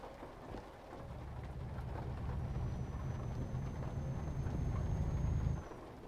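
Heavy rain pours steadily in Euro Truck Simulator 2 on a dark night drive, a dense constant hiss with a low rumble of the truck beneath, ending abruptly near the close.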